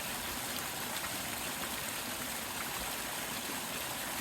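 A continuous, even roar of falling water at the Twin Cascades Waterfalls in Florida, Massachusetts, close and loud, filling the whole stretch without change.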